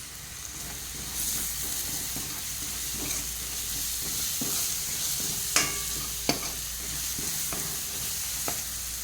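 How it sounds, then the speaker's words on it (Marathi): A soybean mixture fries in oil for paratha filling, giving a steady close sizzle broken by scraping stirs and a few sharp spoon knocks against the pan. "असे तेल सुटेपर्यंत असं फ्राय करून घ्यायचं आहे आपल्याला"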